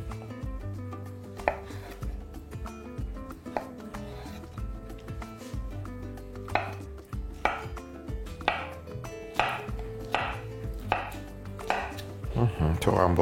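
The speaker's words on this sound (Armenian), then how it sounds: "Կտրատում ենք նաև բանանը։" A knife chops banana on a cutting board for chocolate banana brownies, giving a steady series of sharp close taps over soft background music.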